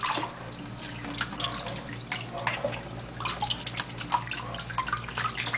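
Tap water runs steadily into a sink as forearms and hands are rinsed during handwashing, a close, continuous splashing rush with small drips and no speech.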